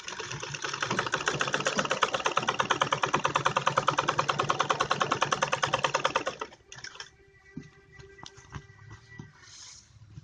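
A sewing machine runs a straight stitch on a kurti in a fast, even mechanical clatter for about six seconds, then stops, leaving a few faint handling clicks.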